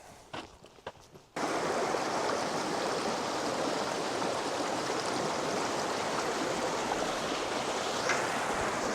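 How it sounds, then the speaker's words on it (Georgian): A mountain stream babbles in a steady, loud rush of water, close by, after a few quieter footsteps and handling sounds at the start. "ეს წყალი რო მორაკრაკებს"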